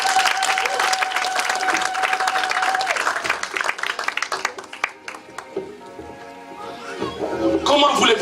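A church congregation breaking into applause, many hands clapping in a busy patter with a sustained tone at first, the clapping thinning out midway and then swelling again with cheering voices.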